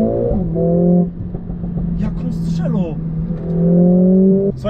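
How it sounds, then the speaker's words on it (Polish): A 2020 Mercedes-AMG A45 S Edition One (421 hp) revving hard, its engine note rising and falling with sharp exhaust crackles between pulls, recorded close from inside the cabin while someone talks. "Nie no, ten dźwięk jest świetny. Jak on strzelu."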